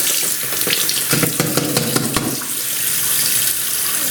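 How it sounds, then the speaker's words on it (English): Warm water runs from a tap into a sink in a steady, close hiss with small splashy fluctuations, continuous and alone while a Fluidmaster 400A toilet fill valve is cleaned. "I've got warm water on right now."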